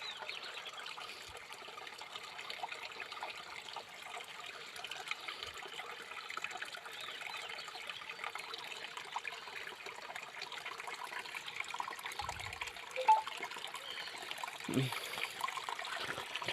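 A village stream flowing steadily with a soft, continuous trickle and rush of water, fairly faint, with a few low thumps and brief clatters near the end.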